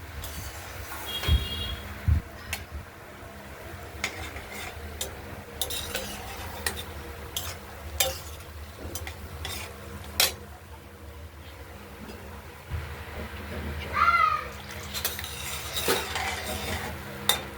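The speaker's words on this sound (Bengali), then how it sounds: "মশলাটায় হলুদ মিশিয়ে আমরা কষানোর জন্য দিয়ে দিলাম" Turmeric-spiced paste for a paneer and potato curry is sautéed in a pan under a soft, steady sizzle, broken by sharp scrapes and clinks of a utensil against the metal.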